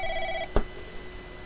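Phone ringing in the football management game Football Manager 2021: a short electronic ring tone that repeats on a steady pitch, then one brief sharp click as the ringing cuts off. Low background hum runs beneath it, with no talking.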